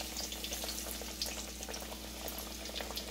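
Two fish frying in hot grease on a homestead, a steady low sizzle and bubbling with crackling pops scattered throughout, fairly quiet and continuous with no talking.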